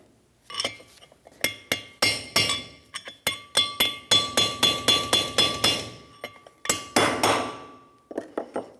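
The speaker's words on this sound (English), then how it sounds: "Take a punch and a hammer, tap it down towards the outside of the rotor" A steel punch struck with a hammer drives a wheel bearing race out of a front rotor on a Ford E-350 Super Duty: about twenty sharp, ringing metallic taps in a steady rhythm, close and loud, with brief pauses between bursts.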